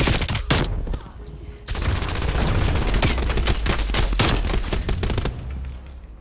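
Rapid bursts of MG 82 machine gun fire in the Rainbow Six Siege video game, loud and near, running nearly the whole time with a brief pause early on and sharp individual shot transients.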